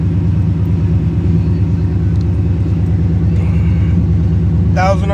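A junkyard car engine idles on the fast idle cam at about 1,000 RPM, with a steady, close, loud rumble that runs throughout and a brief higher whine near the end.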